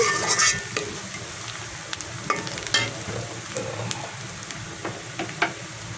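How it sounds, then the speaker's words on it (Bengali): Onions fry in a pan with a steady sizzle, broken by sharp scraping clicks as they are stirred. "পেঁয়াজটাকে অল্প একটু দেখুন ভাজা ভাজা করে নিব"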